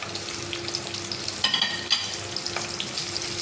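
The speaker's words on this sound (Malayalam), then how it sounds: "അതിലേക്ക് നമുക്കൊരു 15 ചുവന്നുള്ളി" Red shallots sauté in hot oil with a continuous crackling sizzle, interrupted by a few sharper bursts as they are stirred and tossed in the pan.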